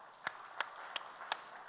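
A church congregation claps sparsely, with four or five distinct, evenly spaced claps, faint and distant, over a quiet room.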